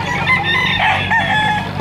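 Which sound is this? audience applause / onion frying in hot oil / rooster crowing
rooster crowing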